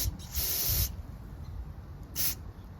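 Aerosol spray hisses in two bursts, a longer one then a short one, over a small engine carburetor on a Troy-Bilt pressure washer during a fuel check.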